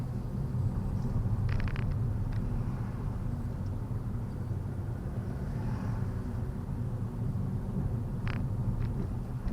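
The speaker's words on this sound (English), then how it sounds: "Handbrake goes down, and we move off." A car pulling away from a standstill during a driving test, heard from inside as a quiet, steady low engine rumble with a few faint clicks and no talking.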